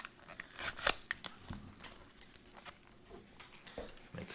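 A sharp knife cuts open a Cold Weather MRE beef stew pouch, giving faint crinkling, scraping and tearing sounds of plastic in short irregular bursts, up close.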